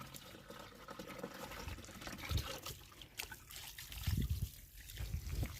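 Water trickles and gurgles out through a pipe at close range, an uneven liquid splashing with low sloshing bursts that comes and goes over a few seconds.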